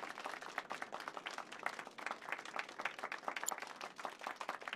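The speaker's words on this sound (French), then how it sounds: "Mesdames et messieurs, veuillez applaudir bien fort notre pianiste." Audience applause for the pianist after a concert in the video game Final Fantasy 7 Rebirth, a fairly quiet, even patter of many hands clapping without pause.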